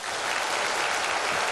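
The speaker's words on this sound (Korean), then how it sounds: "박수." Applause from a church congregation during a Korean sermon, a dense steady clapping that fills the whole short stretch at an even, loud level with no voices.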